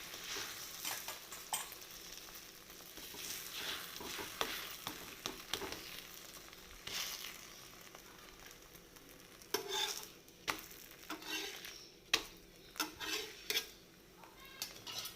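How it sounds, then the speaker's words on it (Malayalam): Parotta frying in oil on a pan, with a steady soft sizzle under repeated scraping, tapping and turning clatter of a utensil against the pan at close range, without any talking. "ഇച്ചിരി ഓയിൽ ഒഴിച്ചു കൊടുക്കണം. തിരിച്ചിട്ട് കൊടുക്കണം."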